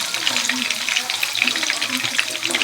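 Vienna sausage fries in a pan with a steady bright crackling sizzle, dense and close throughout, with a faint low voice murmuring underneath.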